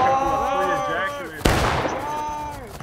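A musket volley fired on command in War of Rights, heard as one sharp, loud crack that spreads into a rolling boom. A voice talks and calls out just before the shots, and more speech follows.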